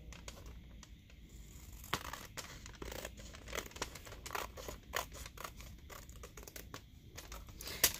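Scissors snip through a paper envelope flap, producing quick crisp cuts and light crinkling of paper at close range, fairly quiet and steady, with no voices.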